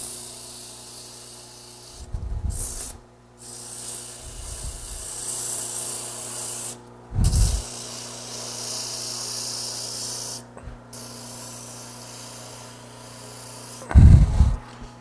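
Sanding a handmade wooden tool handle with 150-grit sandpaper gives a steady breathy rasp, broken by brief pauses and a few louder scraping strokes, with no talking.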